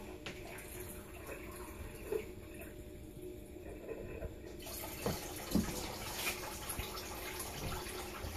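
Warm water pours and trickles over jewellery in a small container, a soft continuous splashing that grows brighter and fuller partway through, with a few faint knocks.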